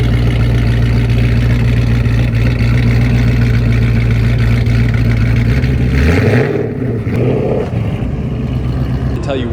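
A Ford Mustang Boss 302 track car with side pipes rumbles loudly at a steady, deep pitch, then the note sweeps as the revs change and settles lower, with voices talking over the engine.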